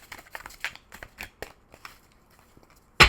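Tarot cards are shuffled by hand in a series of quick papery riffles and flicks, close and crisp, ending with one sharp louder snap.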